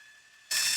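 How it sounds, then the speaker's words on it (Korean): A 1980 Fujifilm Fujica Auto 5 Date point-and-shoot film camera rewinds its film, a faint motor whir that abruptly jumps into a loud, close, rasping mechanical buzz partway through. "역회전하고 있는 거예요. 필름이."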